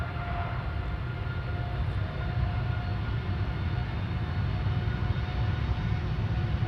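A TUI Boeing 787-8 Dreamliner airliner at Amsterdam Schiphol, a steady low jet engine rumble and hiss held at even loudness throughout, fairly distant, with no talk.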